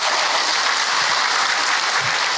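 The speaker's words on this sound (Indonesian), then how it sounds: "Tepuk tangan untuk kita semua." Audience applause at an Indonesian religious lecture, a steady wash of many hands clapping at even volume throughout, no talk over it.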